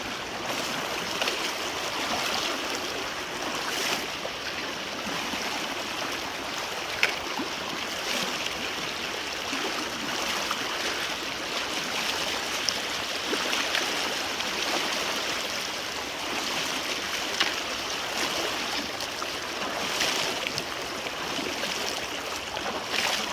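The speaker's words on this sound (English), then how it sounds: "One of the bigger water crossings. This is probably the widest one I've had to do." Broad, steady rush of stream water at a wide John Muir Trail crossing, a continuous hissing flow with faint splashes, close and unbroken for over twenty seconds, with no voices.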